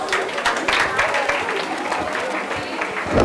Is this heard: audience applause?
yes